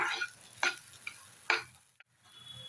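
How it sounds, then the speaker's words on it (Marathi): Rice with almonds, pistachios and cashews is stirred while roasting in ghee in a pan for rice kheer, giving a few faint, close scraping strokes over a soft sizzle. "हे मी भाजून घेते. 5 मिनिटं द्या."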